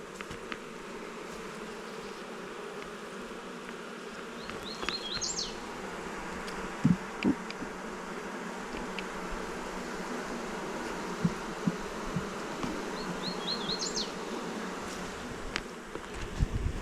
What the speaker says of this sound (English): They are busy, busy bees.